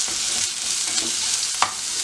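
Onions sautéing over a low flame, a steady soft sizzle with faint stirring scrapes and one brief sharper clink near the end, no voices.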